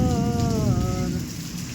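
Heavy monsoon rain pours down in a dense, steady roar, with a sung melody floating over it for the first second before the downpour carries on alone.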